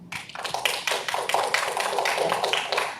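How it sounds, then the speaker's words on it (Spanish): Audience applause greeting a speaker at a science talk on meteorology and fire management, a dense, steady patter of many hands clapping close by that starts abruptly and holds at full strength. "a quien recibimos con fuertes aplausos"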